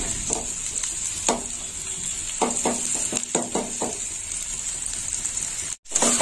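Vegetables sizzle steadily in a hot pan with turmeric while a spoon scrapes and stirs through them in a series of short, uneven strokes.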